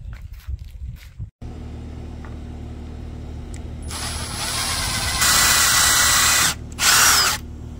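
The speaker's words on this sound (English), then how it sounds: "I'm gonna go ahead and drill some pilot holes on the side" A power drill bores pilot holes in wood for a concrete table top frame, starting after a brief pause with a rising whine that runs steadily and loud, cuts out briefly, then surges again near the end.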